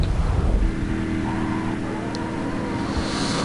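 A car driving in the video game The Godfather 2, with a steady engine drone and road rumble, slightly louder at the start, then a continuous even hum with no speech.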